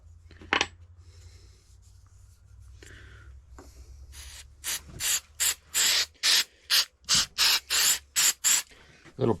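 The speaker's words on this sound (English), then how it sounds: "Little parts cleaner." Parts cleaner hisses from an aerosol can onto a 10-inch Bonney pipe wrench being restored, a series of about ten short, loud bursts in an even rhythm following a few quieter rustles and a clink.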